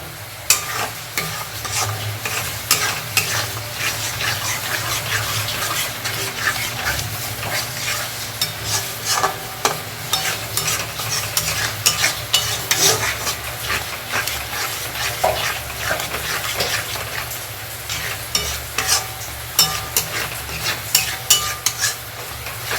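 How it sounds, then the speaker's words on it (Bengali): Spice masala for a prawn bhuna is stirred and fried in a pan, giving a continuous loud sizzle with constant scraping and clattering of a spoon; a dog barks faintly now and then. "মশলাটাকে কষতে থাকবো"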